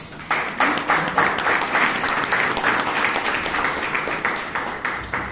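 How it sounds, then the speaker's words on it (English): Members at a Bangalore Toastmasters meeting give Toastmaster Ratan a round of applause, brisk clapping that swells in after a brief pause and carries on fairly loud and even before easing slightly at the end. "Let's give Toastmaster Ratan the round of applause."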